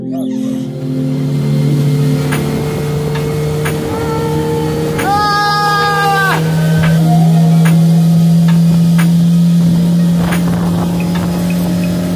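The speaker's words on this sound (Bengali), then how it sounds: "আমরা দুটো বোট নিয়েছি রিভার ক্রুজের জন্য।" A boat motor hums steadily on Patratu Lake during a river cruise, a low drone running throughout with a brief higher whine partway through and faint voices in the background.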